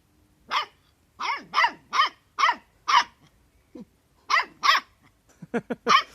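A dog barks in quick bursts, some doubled, with a short low growl in a gap and a fast run of yips at the end, close and loud with no talking.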